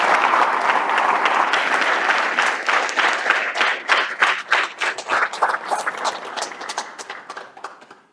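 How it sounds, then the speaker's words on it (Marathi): Audience at a religious satsang gathering bursts into loud applause, a dense wash of clapping that thins into scattered individual claps and fades out. "एकदा जोरात टाळ्या वाजायला पाहिजे"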